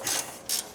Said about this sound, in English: Usually works best with a wrench on that.